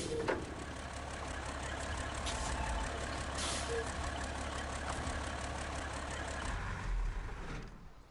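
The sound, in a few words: truck engine and air brakes in the SnowRunner video game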